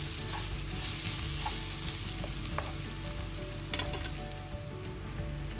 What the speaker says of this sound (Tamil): நம்ம கிரைண்ட் பண்ணி வச்சுருக்கிற இந்த மிளகு, சீரகம், இஞ்சி, பூண்டை எண்ணெயில் சேர்த்துட்டு இது கொஞ்சம் நல்லா இதில் ஃப்ரை ஆகணும்